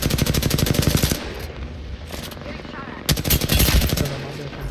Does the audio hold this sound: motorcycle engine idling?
no